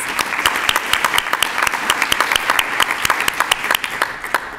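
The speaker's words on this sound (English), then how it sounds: "So a round of applause for her in her absence." A room full of people applauds steadily, dense overlapping claps at even loudness throughout, with no voices on top.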